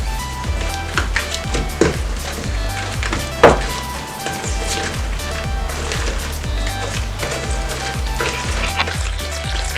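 Chocolate chip cookie dough ingredients with salt being mixed: a steady mechanical whirring drone with a rhythmic churning pulse and occasional clunks, loud and close throughout.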